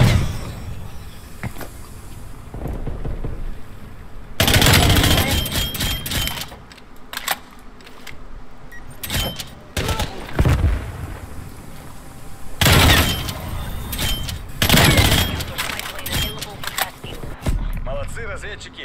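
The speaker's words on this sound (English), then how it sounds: "lot of bullets flying through here." Gunfire in a hardcore multiplayer team deathmatch video game comes as loud bursts of rapid shots and explosive booms, separated by quieter stretches with scattered clicks and impacts, with a player talking over the action.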